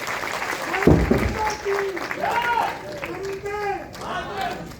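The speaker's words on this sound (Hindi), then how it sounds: "जोरदार तालियां बजाएं" Audience clapping at a medical college event, a moderate wash of applause running under an amplified speaker's voice and crowd chatter, swelling after a sharp thump near the start.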